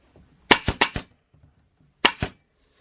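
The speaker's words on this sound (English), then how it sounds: "So basically, got our staple gun here." A staple gun fires into a bamboo audio diffuser frame: a quick burst of four sharp, loud snapping shots, then a pause and two more close together, up close with no talking.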